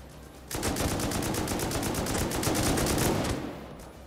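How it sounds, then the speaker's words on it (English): Gunfire in the survival game Rust Console Edition: a loud, sustained burst of rapid automatic shots that runs about three seconds and then cuts off, with no talking. "Oh, there's someone shooting at you."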